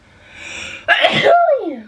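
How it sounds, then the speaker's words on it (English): A single loud sneeze bursts out after a moment of quiet breathing, close to the microphone, ending in a trailing vocal sigh. "I'm going to sneeze, hang on."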